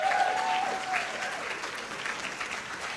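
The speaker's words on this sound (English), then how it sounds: "Please give them all a round of applause." A dense crowd at a volunteer recognition luncheon applauds steadily, a continuous wash of many hands clapping, moderately loud and even throughout, with a faint whistle near the start.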